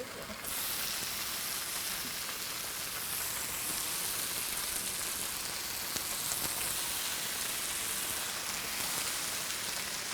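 Meat sizzles steadily on a hot griddle, a dense even crackle like light rain that starts abruptly and continues close and loud throughout, with no voices.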